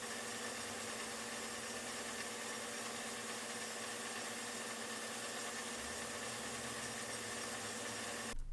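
A metal lathe turns a long part at very high RPM on a slow finishing feed, giving a steady, faint mechanical hum with a constant tonal whine and no speech.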